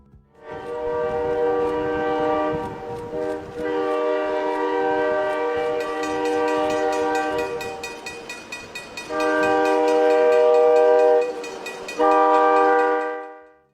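A Rock Island wedge snow plow, a 95-ton iron railway plow, moves along the tracks with its loud horn sounding in long sustained blasts over a rumbling train, alone and close.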